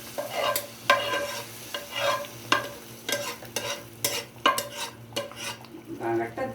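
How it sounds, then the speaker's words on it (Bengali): Fried onion tempering is poured into thin, soupy khichuri, setting off a steady sizzle while a utensil scrapes and stirs the pot in repeated clinking strokes, close and fairly loud, with no voices. "এই যে আমি বাগারটা দিয়ে দিলাম।"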